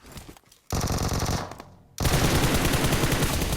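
Uzi submachine gun in PUBG Mobile, loud rapid-fire bursts with a short pause, then a sustained stream of automatic fire, close and dominant.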